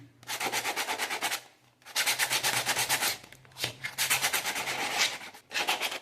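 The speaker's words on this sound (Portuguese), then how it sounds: "aqui lixei bem a cumbuca, ela ficou bem áspera" Sandpaper rubs briskly over a reused bowl in quick, rhythmic back-and-forth strokes, close and steady, in three bursts separated by short pauses.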